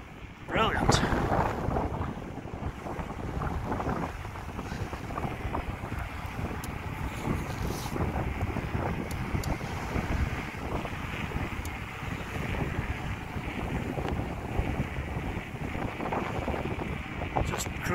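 Heavy wind roars across the microphone of a rider cycling into the wind on a smooth new cycle and pedestrian path, a loud continuous buffeting rumble that holds steady throughout.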